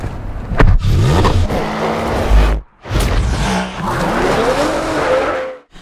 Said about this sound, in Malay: So jom kita lenjan kereta ni, Proton X50.